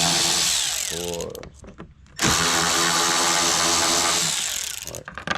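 A power drill drives screws into the spoiler of a 2022 Corvette C8, with whirring bursts that stop and start, a short pause midway and then a long loud run, close by.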